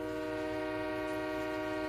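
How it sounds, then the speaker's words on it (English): A train passing in a California Central Valley railway video game sounds a long steady horn, a loud sustained chord that holds unbroken over a low rumble of the moving train. "that train's making me lose my train of thought"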